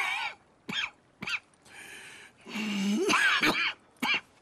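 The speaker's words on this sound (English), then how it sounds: "That's quite a cough." A character coughs repeatedly in the video game Red Dead Redemption 2, with several harsh, raspy bursts in an uneven rhythm and a longer hoarse, wheezing fit near the end, loud and close.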